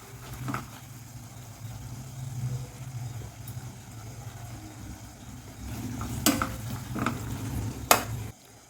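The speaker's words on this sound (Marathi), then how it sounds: "मी कांदा आणि मिरची एकत्रच फ्राय करून घेते थोडंसं तेल टाकून याला फ्राय करून घ्यायचं आहे" A low, steady sizzle of onion and chili frying in seven to eight spoons of oil for mutton biryani, with a few sharp clinks of a utensil against the pan near the end.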